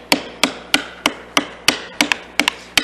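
Mallet strikes on a 1/4-inch chisel, bevel up, chopping into end grain to cut dovetail tails: nine sharp wooden knocks at a steady rhythm, the last pair closer together, close and alone.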